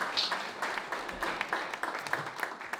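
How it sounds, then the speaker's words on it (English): Audience applause for a guest speaker at a book presentation, steady dense clapping that holds for about three seconds at moderate, fairly distant level. "give him another round of applause so he doesn't get mad at me"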